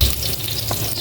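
Ginger sizzles steadily in a hot pan while being sautéed for sinigang, a loud, close, continuous frying hiss.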